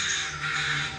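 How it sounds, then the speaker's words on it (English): Crows caw loudly and harshly in a continuous alarm chorus, a flock scolding at a dead taxidermied crow carried by a person, the calls dense and overlapping throughout. "The crows seem to wail and scold her and the dead bird."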